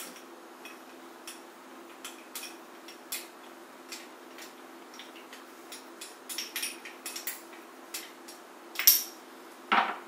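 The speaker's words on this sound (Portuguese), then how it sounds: "Agora, Vamos misturar aqui uma colher de sopa de maisena." A spoon clinks and taps against a bowl while stirring strawberry syrup with a tablespoon of cornstarch, with light irregular ticks growing busier and a couple of louder scrapes near the end.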